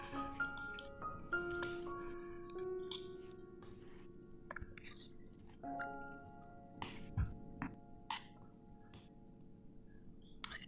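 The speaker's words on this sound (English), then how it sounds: "all we have to do now is to mix all these ingredients thoroughly" Cucumber salad with sambal belacan and freshly squeezed local lime being mixed thoroughly by hand, close up: wet squishing and soft dripping with light clinks and clicks, steady and unhurried, with no talking.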